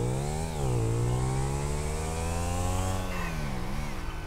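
A motorcycle engine in GTA 5 revs loudly up close, its tone sliding up and down as the throttle is worked, then rising again near the end.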